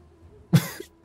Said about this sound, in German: Das waren Schluckser und ein Huster